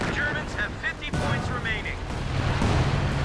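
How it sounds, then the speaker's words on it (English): Artillery gun firing in Company of Heroes 2, a deep thudding blast landing mid-clip beneath someone talking over the game's battle noise. "Oh, when he gets a artillery shot off."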